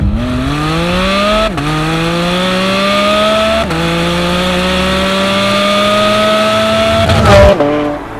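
Naturally aspirated high-revving Porsche Spyder RS engine screams loudly and continuously toward its 9,000 RPM limit, pitch climbing steadily through the gears with two brief dips at shifts before a final lift-off.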